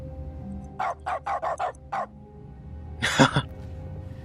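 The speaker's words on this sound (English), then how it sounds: "the click sound you do when you use something with a bark" A dog bark replaces the use-click in The Stanley Parable: five quick, clipped barks in a row, a short pause, then one rougher, cough-like burst, all close and alone.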